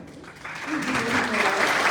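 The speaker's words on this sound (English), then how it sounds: "So we would like to give a big round of applause" Applause from an awards ceremony audience swells steadily, with a voice speaking briefly over the clapping.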